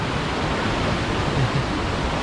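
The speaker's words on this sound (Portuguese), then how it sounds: "a quantidade de água vindo de todas as partes" Aira Force waterfall with a large volume of water rushing down from several directions, a loud, steady broadband roar filling the whole clip with no pauses and no voices.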